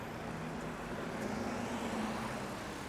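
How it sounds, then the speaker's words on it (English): Street traffic in Casablanca, Morocco, with buses passing: a steady low engine rumble and road noise, moderately distant and continuous, with no voices. "There's your buses there."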